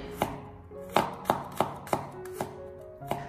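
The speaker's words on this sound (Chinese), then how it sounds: "接着我们准备少许的大蒜籽，先把它改刀切成薄片" Knife chopping garlic cloves into thin slices on a cutting board, seven or eight crisp, evenly spaced chops, close and clear with no talk.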